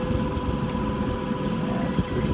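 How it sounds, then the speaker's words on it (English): An electric ride-on lawnmower's motor spins up slowly at about 1000 RPM, giving a steady low hum and drone that stays even and fairly close throughout, with no voices. "Okay, 1000 RPM, very slow,"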